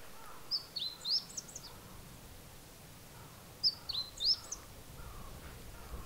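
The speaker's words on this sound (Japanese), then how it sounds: "こっちに 鳥さんいるんですよね" Birds call outdoors in two short bursts of chirps about three seconds apart, faint against a quiet background.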